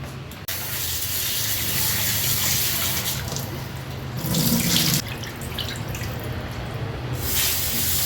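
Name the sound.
tap water washing raw chicken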